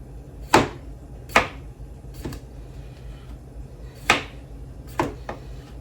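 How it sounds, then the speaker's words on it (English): Knife slicing through potatoes on a board, six crisp, separate cuts at an uneven pace, fairly close and alone in a quiet room. "My slicing skills are not good this morning"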